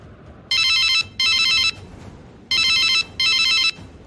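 A telephone rings in two double bursts, each a pair of loud, bright electronic trills with short gaps, clear and close with no voices.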